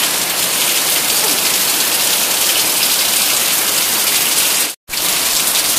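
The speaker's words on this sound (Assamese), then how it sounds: "ৰাতিপুৱা একদম পুৰা ধুনীয়াকৈ বৰষুণ দি আছে" Steady morning rain falls without pause, a loud, even broadband hiss close by, interrupted only by a momentary dropout near the end.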